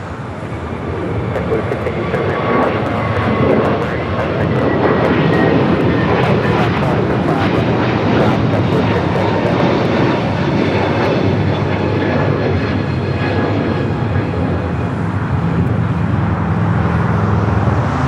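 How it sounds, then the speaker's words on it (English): A Delta Airbus A321neo jet takes off from the south side of LAX bound for Tampa, a loud sustained engine roar close by that swells and holds with a broad rushing texture throughout. "Next takeoff here on the south side is the Delta A321neo heading to Tampa, Florida"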